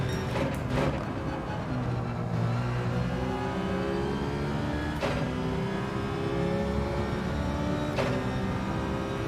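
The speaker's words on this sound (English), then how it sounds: "too many gears down, too many downshifts." A race car in Gran Turismo 7 drops through too many gears during a daily race. The engine revs rise and fall in climbing sweeps, and sharp shift blips come at several points over a continuous near engine drone with no talk.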